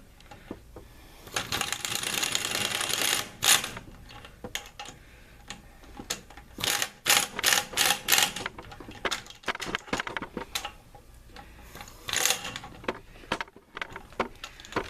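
Tightening wheel adapter bolts for 20-inch rims brings rapid ratcheting clicks in several bursts of varying length, near and crisp, separated by short pauses, with no talking.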